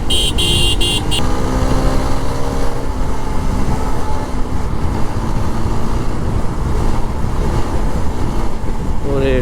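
An Apache 4V motorcycle rides through Dhaka streets at dawn, its steady engine drone mixed with loud continuous wind rush throughout.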